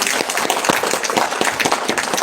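Audience applause at a technical talk on LNG trade in Latin America and the Caribbean, a dense, loud burst of many hands clapping that continues steadily for a couple of seconds.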